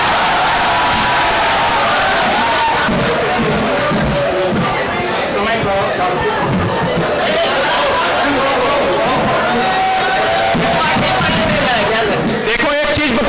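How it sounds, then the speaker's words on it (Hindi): A crowd at a Hindi comic poetry gathering in Moradabad in 2023 applauds and cheers the poet Dr Anju Singh with sustained, loud clapping, whoops and chatter, and a voice is heard over it. "एक बार जोरदार तालियां बजा दो।"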